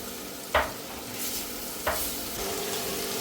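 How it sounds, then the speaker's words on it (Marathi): Ginger garlic paste is stirred into sizzling, well-fried onions in a pan for a Marathi mud crab curry, with a steady soft sizzle broken by two sharp spoon scrapes, quiet and close. "आता याच्यानंतर आपण आलू लसूण पेस्ट टाकणार आहोत ही आहे आलू लसूण पेस्ट"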